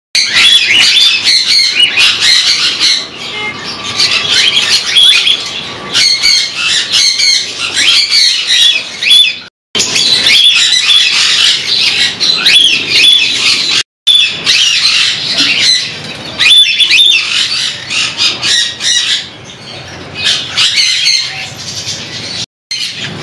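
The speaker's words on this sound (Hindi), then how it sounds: "ज़्यादा करके बर्ड्स जो है अपने बॉक्सेस में है तो उनको डिस्टर्ब नहीं करूँगा मैं।" Pet birds in breeding boxes squawk and chirp loudly and constantly. The shrill, overlapping calls are close by, with a few brief pauses, and no talk is heard.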